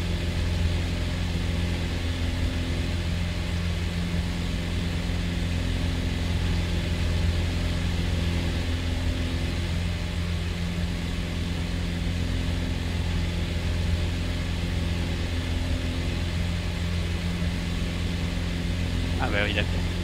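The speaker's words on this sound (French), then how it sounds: "J'ai pas entendu de variation du moteur" A light aircraft engine drones steadily in a flight simulator flight from Troyes to Lognes, a continuous even hum with no audible change in pitch, heard alone throughout.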